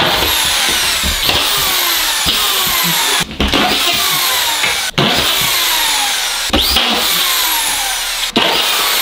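Power screwdriver driving screws into a false ceiling panel during a studio renovation, repeated loud whirring bursts that rise in pitch, each ending abruptly, several in a row close by.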